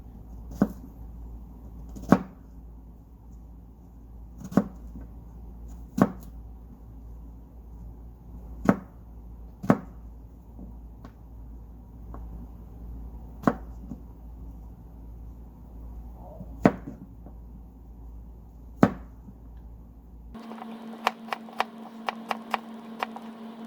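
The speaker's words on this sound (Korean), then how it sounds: "그럼 이제 마늘을 자르겠습니다." A knife chops garlic on a cutting board for vegetable rice cake soup, giving sharp, isolated knocks at an uneven, slow pace over a quiet background, followed by a short burst of quicker taps.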